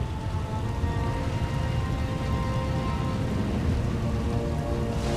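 Rain pours steadily as a storm approaches in the Star Wars: The Old Republic video game, a dense, even hiss of drops on surfaces running without a break at low volume.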